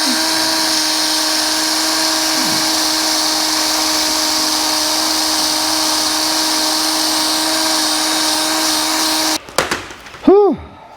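Power drill boring into a snapped suspension bolt: a loud, steady high-pitched whine runs for about nine seconds, then stops, followed by brief clattering and the motor spinning down.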